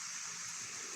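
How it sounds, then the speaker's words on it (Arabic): Tomato juice poured into a sautéed mixture in a pan, giving a steady, continuous liquid pouring and splashing sound that is close and fairly faint, with no talking. "ننزل بقى بعصير الطماطم"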